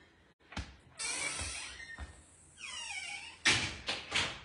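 A door in a two-bedroom house is opened while walking through, giving a sharp knock, a creaking slide and swish, then several clattering thumps and a scrape, close and moderately loud with no speech.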